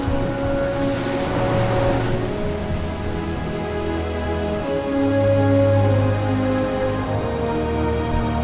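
Steady rain pouring in a storm in World of Warcraft, with a faint thunder rumble early on, a low droning hum and tonal music underneath, no speech.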